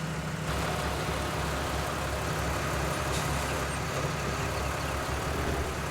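A tractor engine in Farming Simulator 19 drones steadily and evenly throughout, a constant low mechanical rumble with no breaks.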